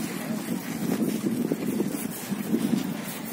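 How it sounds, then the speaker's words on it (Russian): Wind blows outdoors on the way to a hot spring, a steady rushing roar with gusty surges, loud against the microphone and with no clear talking. "Ветер дует."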